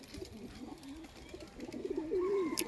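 White pigeons, a prized foreign breed rather than local birds, coo close by in soft, rolling low calls repeated throughout, ending in a clearer, drawn-out coo with a faint chirp at the very end.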